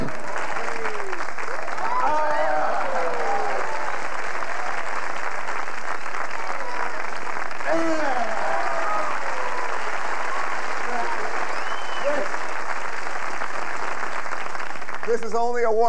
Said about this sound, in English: Usually people applaud here.